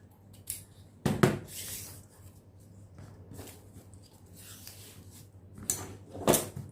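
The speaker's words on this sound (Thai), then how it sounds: "ตรงนี้เราก็ตัดทิ้งไปค่ะ" Scissors snip along a curved pattern edge, a few sharp close cuts around one second and again near six seconds, with soft paper rustling between them in a quiet room.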